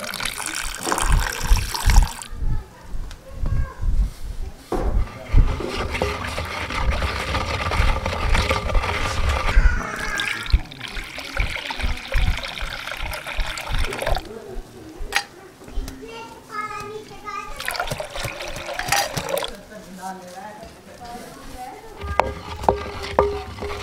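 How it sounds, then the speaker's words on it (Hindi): Water is poured into broken jaggery for a mint, jaggery and lemon sharbat, a splashing, stirring wash of sound that continues for much of the stretch, fairly loud and close. "बिस्मिल्लाहिर्रहमानिर्रहीम, इसमें डालेंगे पानी।"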